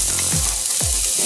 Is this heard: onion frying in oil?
yes